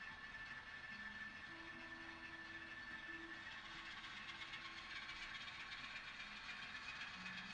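A small model train hums and hisses steadily at low volume, with faint squeaks and a thin whine, no voices.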